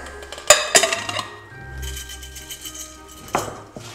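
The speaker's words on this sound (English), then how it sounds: "now let's transfer the potatoes" Boiled potatoes tipped from a hot pot into a bowl for mashed potatoes, with clanking metal-on-ceramic knocks and clinks at the start and again near the end, close and fairly loud.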